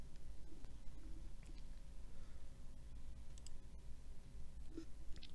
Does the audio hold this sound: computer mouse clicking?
yes